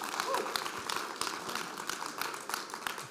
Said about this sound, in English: Can we give everybody that served as a veteran just a big round of applause?